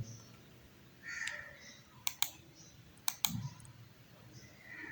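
A computer mouse clicks on a web page in two quick double-click pairs about a second apart, crisp but fairly soft over faint room noise.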